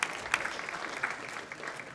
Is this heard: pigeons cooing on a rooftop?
no